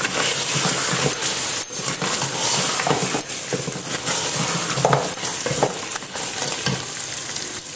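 Whole spices, black cardamom and a few cloves, drop into oil sizzling under mutton paya (goat trotter) curry, giving a steady close frying hiss with light stirring and clinks of a spoon against the pot.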